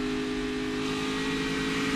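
A stock race car engine climbs in pitch as the throttle opens, a steady mid-range drone that is loud and close with no voices over it.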